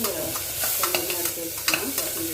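Blueberries sauté in a pan as a soft, steady sizzle runs under light scraping and stirring strokes, close and fairly quiet, with no speech.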